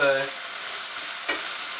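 Jarred minced garlic sizzles in a hot pan, a steady, close frying hiss with a single light clink partway through.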